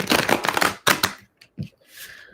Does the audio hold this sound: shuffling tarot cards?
yes